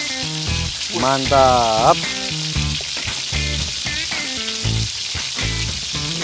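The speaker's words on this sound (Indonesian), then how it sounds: "habis itu kita goreng ya" Shrimp tauco with petai fries in a wok with a bright, continuous close sizzle and crackle, while voices talk over it throughout.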